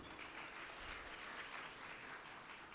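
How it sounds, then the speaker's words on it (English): An audience applauds at the inaugural session of an event, a quiet, even wash of clapping heard from a distance that stays steady for the whole stretch, with no voices standing out. "a round of applause for the audience"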